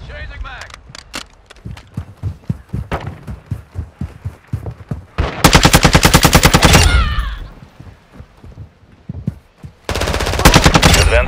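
Rapid automatic gunfire in a shooter video game crackles in repeated bursts, with two long, dense volleys standing out loud and close. Voices speak between the shots.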